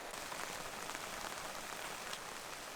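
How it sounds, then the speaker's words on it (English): Season's first rain falls in the countryside at the end of autumn, a steady, even patter of drops on surfaces that carries through without pause, close and moderately soft, with no voices. "Actually, first rain already came that weekend."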